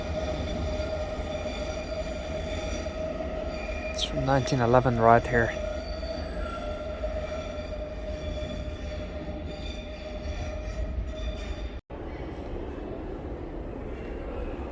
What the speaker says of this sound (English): The tube of London, just listen at the noise.